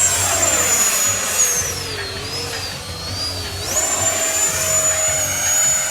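An FMS Rafale 64mm electric ducted-fan RC jet flies past at full speed, its loud, steady high-pitched whine rising and falling in pitch as it sweeps by, with no voices.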